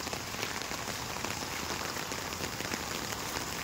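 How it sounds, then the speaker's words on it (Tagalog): Steady, dense typhoon rain from Typhoon Carina pattering on surfaces, a constant hiss with no voices. "malakas ang ulan, bigla."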